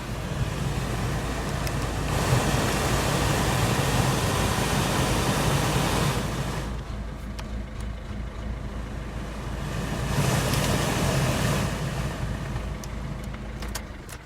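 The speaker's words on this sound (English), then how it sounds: "Fan is working perfectly." A Citroen C3 cabin blower fan runs with the engine on, a steady broadband whoosh of moving air that dips slightly in level partway through and then swells back. No talking is heard.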